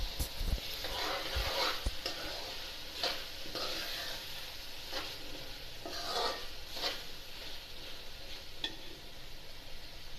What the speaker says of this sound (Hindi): अब इनको अच्छी तरह भूनती हूँ